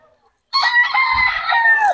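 Rooster crowing loudly at a Bocaue flea market, a single long crow with a cluck-like low burst in the middle, close to the microphone after a brief silence.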